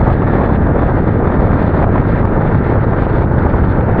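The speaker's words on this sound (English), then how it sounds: "It is a windy, turbulent day today" Strong wind buffets the microphone on a turbulent, stormy day at Salagdoong Beach in Siquijor, Philippines, a loud continuous roar with no pauses and no voices.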